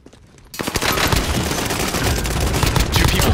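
Sustained, loud video-game gunfire in a battle-royale trios match, starting after half a second of near quiet and then running as dense overlapping automatic bursts and fusillade to the end.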